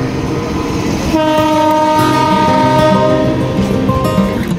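A loud, sustained train horn blares close by over the rumble and clatter of the moving Radhikapur Express.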